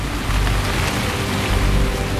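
Heavy rain falling during a spell of stormy weather in North India, a dense steady hiss of downpour with a low rumbling undertone, loud and continuous throughout with no voices.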